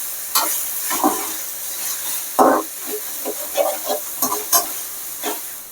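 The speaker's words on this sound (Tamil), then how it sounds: "அது நல்லா பச்சை வாசனை போகிற அளவுக்கு வதக்கிங்க." Onions and spices with turmeric sautéing in a pan for appalam rice, a quiet sizzle broken by repeated short scrapes and stirs at an irregular rhythm, close and unaccompanied by talk.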